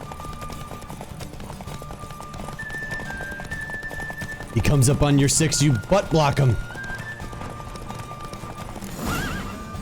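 Roach the horse galloping in a race in The Witcher 3, a steady clip-clop of hooves under a voice, then a loud burst of neighing and whinnying midway, with tack jingling and game music behind.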